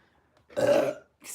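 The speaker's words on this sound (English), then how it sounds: "Excuse me, confirmation burp." A single deep human burp, close and fairly loud, lasting about half a second, followed by silence and the start of another sound.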